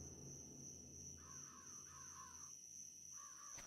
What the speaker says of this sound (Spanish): ¿Me da mal rollo los cuervos?